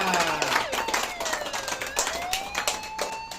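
A small crowd claps continuously at a cake cutting during a police-themed celebration, rapid overlapping claps mixed with voices and a wavering siren-like tone throughout.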